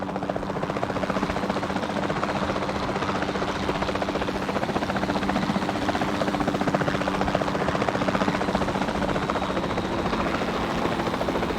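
Capture team helicopter in the game Jurassic World Evolution 2, its rotor chopping in a steady, loud, continuous drone with a constant engine hum throughout, no voices.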